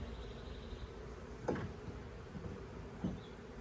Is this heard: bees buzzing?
yes